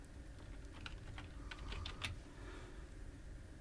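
Keys clatter in a quick, light burst as a word is typed on a computer keyboard while coding HTML and CSS, fairly soft and close, with no voices.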